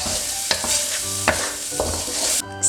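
Stuffing sauce seasoned with sugar and salt cooking down in a pan, a continuous bubbling sizzle broken by a few sharp utensil taps and stirs, close and fairly loud, with no talking.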